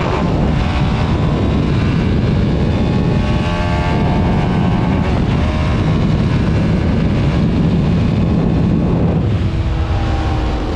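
A TVS Apache RR310 sport motorcycle engine roars loudly and continuously, revving as it accelerates at close range, with shifting pitch and no talk.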